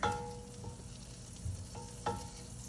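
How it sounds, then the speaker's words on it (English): Half a stick of unsalted butter melts in a pot beside onions, a quiet steady sizzle and fry close by with a few soft clinks of a utensil against the pot. "I'm gonna take half a stick of butter, and I'm gonna drop it in, and we're gonna melt that butter down on one side of the pot right here"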